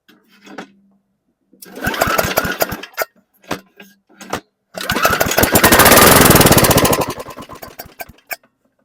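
Beat-up junk lawn mower with missing parts sputtering to life, firing in short ragged bursts with gaps between, then a louder sustained smoky run before cutting out, close and harsh.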